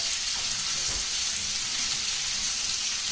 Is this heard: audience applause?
no